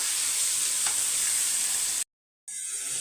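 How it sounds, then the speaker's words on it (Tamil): Small onions sauté in a hot pan with a loud, steady sizzle that drops out briefly and then resumes. "வதங்கட்டும் வெங்காயம்"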